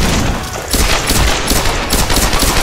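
Rapid bursts of gunfire from Tomb Raider Definitive Edition fill the scene, loud, dense and continuous, with overlapping shots and a brief lull before firing resumes.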